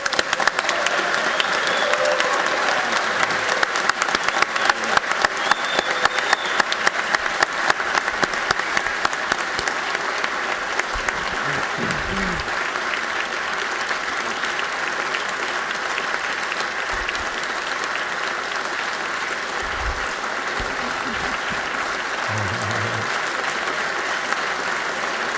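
Sustained, loud applause fills the Georgia House of Representatives chamber, steady and dense for the whole stretch, with a few faint voices underneath as it slowly eases off.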